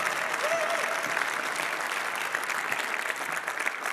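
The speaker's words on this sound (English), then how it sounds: "Please give a very, very warm applause to Nina Bolsons." A conference audience gives steady, dense applause for a speaker, a continuous wash of clapping heard from within the crowd.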